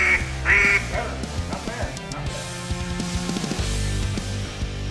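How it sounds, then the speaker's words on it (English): Young hunters blow duck calls, giving loud nasal quacking notes in short repeated bursts, close and harsh, with some mixed low noise underneath. "where Barney takes a few minutes to give a call lesson to some eager young hunters"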